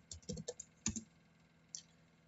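Faint, scattered keystrokes on a computer keyboard come in a few quick bursts with pauses between, close and quiet, with no voices.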